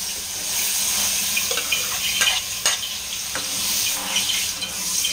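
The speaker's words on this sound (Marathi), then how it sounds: "तुम्ही पाणी घाला." Water is poured into Khandeshi dal freshly tempered with asafoetida and turmeric, a steady close splashing hiss with light bubbling and occasional clinks throughout.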